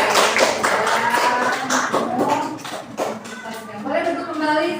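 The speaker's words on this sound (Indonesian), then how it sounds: "Tepuk tangan dong buat kelompok 2." Students in a classroom clap for a presenting group, a dense wash of hand claps lasting several seconds, with voices mixed in beneath the applause.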